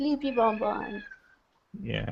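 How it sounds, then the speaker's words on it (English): A cat meows in a long, drawn-out call that trails off, then a person starts speaking after a short pause. "There's another cat meowing somewhere."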